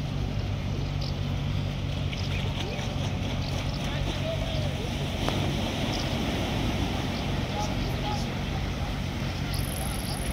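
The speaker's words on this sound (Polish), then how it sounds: "O, i teraz wpływa statek." A ship sails in through the drawbridge channel at Dziwnów, a steady low engine and water rumble mixed with wind and waves, continuous and fairly loud outdoors, while people talk nearby.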